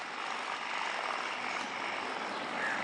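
An Air India Boeing 777 cruising at 30,000 feet and 470 knots makes a steady, even broadband roar inside the cabin that drones on without pause.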